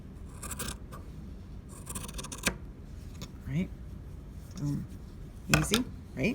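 Scissors cutting through felt along a marked line for a hand sewing project, a few separate soft snips and slides close by, with brief speech around them.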